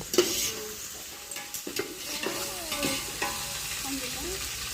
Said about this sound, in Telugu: అల్లం వెల్లుల్లి పేస్ట్ అయితే బాగా మనకి పచ్చి వాసన వరకు ఫ్రై చేస్తుంది కదా